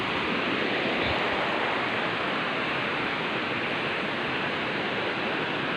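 Steady, dense rush of river water flowing past a C-shaped bend of a creek, a continuous full-bodied wash close by with no talking.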